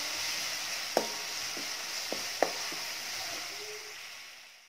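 Ground spice paste sautés in a pan under a soft, even sizzle, broken by a few clinks of a spatula scraping and tapping the pan, close and with no speech.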